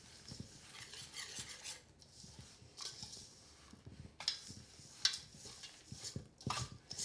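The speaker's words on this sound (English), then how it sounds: "I'm just gonna incorporate this all together with my whisk" A whisk clinks and scrapes around a bowl as granola ingredients are mixed together, giving quiet, irregular rattling taps with a few sharper knocks of metal against the bowl.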